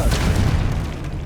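A Confringo fire spell bursts in the Hogwarts Legacy video game as a single short, deep boom with a rumbling tail that fades quickly.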